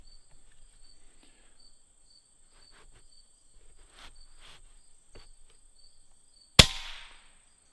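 A single sharp crack from an Umarex Origin air rifle firing a light .22 RWS Hobby pellet, heard once near the end after quiet with faint background chirping.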